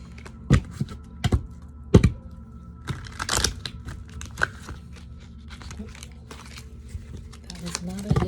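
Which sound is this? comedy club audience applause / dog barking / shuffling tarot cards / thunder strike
shuffling tarot cards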